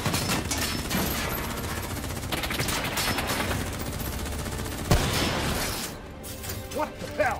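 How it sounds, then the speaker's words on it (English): Dense gunfire from a Call of Duty: Black Ops 3 battle, a sustained fusillade of rapid automatic shots and crashes running throughout, loud and close, with a voice calling out over the shooting. "What the hell? Who's shooting?"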